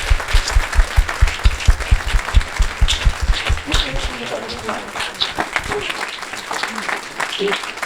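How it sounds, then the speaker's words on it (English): Applause from an audience at a real estate event, loud rhythmic clapping with whoops over it that thins out after a few seconds, while voices and crowd murmur continue underneath. "So let's give a huge round of applause to these great events."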